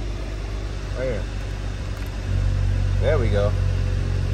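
A Mercedes-AMG GLE 53 engine idles low, then steps up to a louder, deeper drone about halfway through, while someone speaks briefly over it twice.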